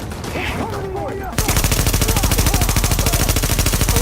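Automatic fire from an ACR rifle in a shooter video game: after a quieter stretch with faint voices, a loud, close, rapid and evenly spaced string of shots rattles on continuously to the end.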